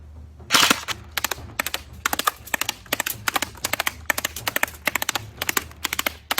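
A CYMA CM032A M14 SOCOM airsoft electric gun fires in full-automatic bursts, each burst a rapid string of sharp mechanical clacks, repeated in short groups at close range with brief pauses between them.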